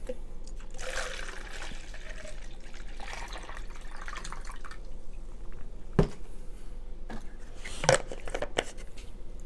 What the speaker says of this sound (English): Got one of my cups. I'm gonna actually pour a drink inside.